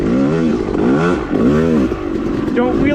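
A Yamaha YZ250 two-stroke dirt bike with a paddle tire revs hard on an off-road trail, its loud, close engine note rising and falling in repeated swells, with a quick blip near the end.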